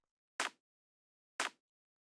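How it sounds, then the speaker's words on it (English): Two isolated hits of a regular clap sample for an electronic track, spaced about a second apart, each a short bright broadband burst with a quick decay, alone in silence. "We have like a regular clap"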